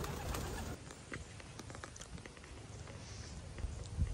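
Racing pigeons coo softly around a loft on race day, low murmuring calls mixed with light scuffling and wing movement, fairly close and continuous with no talking.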